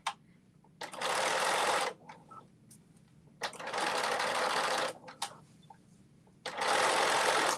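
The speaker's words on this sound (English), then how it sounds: "And sew all at the same time." Sewing machine stitching fabric for a Simplicity 8424 pattern, running in three loud bursts of rapid, even stitching of about a second each, separated by quiet pauses with small handling clicks.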